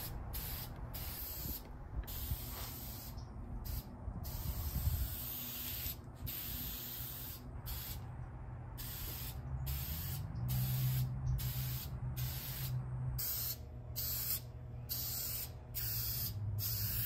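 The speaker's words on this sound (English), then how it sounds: "I sprayed it with some shellac in an effort to seal the wood before priming" Shellac sprayed onto wood furniture to seal it before priming, heard as steady close hissing bursts that start and stop repeatedly, with brief quiet gaps between passes.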